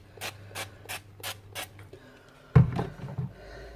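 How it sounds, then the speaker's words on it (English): Five short hissing bursts from a Frylight cooking oil spray can in quick succession over food in a slow cooker, followed by a clunk and faint handling noises. "I'm spraying it with some fry light."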